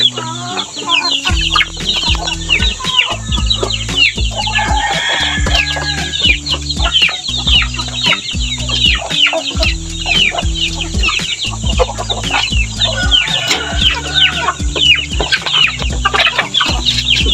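A dense, continuous chorus of chicks and chickens cheeping and clucking on a farm, close and loud, with a steady rhythmic background hum and occasional louder calls rising above the flock.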